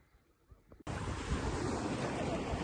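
Sea waves at a beach in Ibiza break as a loud, close, continuous rush of surf that starts abruptly after a quiet moment with faint background sounds.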